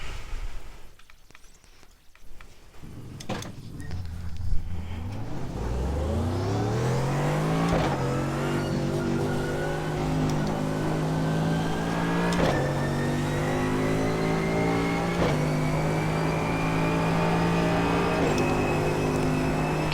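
Mercedes GT3 race car in the iRacing simulator, its engine climbing from idle through rising revs and settling into a sustained high, loud drone with brief dips at gear changes.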